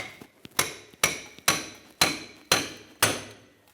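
Hammer strikes on a CV axle fork to pop out a rear CV axle on a 2013-2018 Toyota RAV4 2.5L L4: six sharp metallic blows at an even half-second rhythm, close and ringing, no talking.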